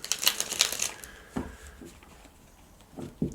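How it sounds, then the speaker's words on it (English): Tarot cards are riffled in a quick burst of crisp, papery flutters at the start, followed by a few soft taps and rustles as the deck settles, close and moderately loud with no talking. "Let me just give that a little bit more of a shuffle."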